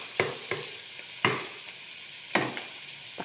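A spatula scrapes and knocks around a pan of frying breakfast food, a handful of sharp stirring strokes spaced out over a faint, continuous sizzle, close by with no one talking.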